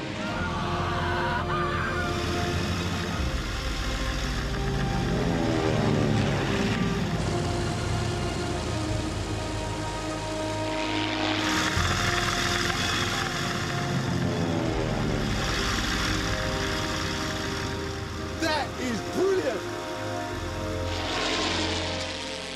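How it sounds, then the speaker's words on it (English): A P-51 Mustang fighter plane makes a flying demonstration pass, its piston engine roaring loud and continuous with swelling and fading sweeps as it moves past, over steady drone from a B-24 Liberator bomber. "I've secretly asked the pilot to give Hoos a special demonstration"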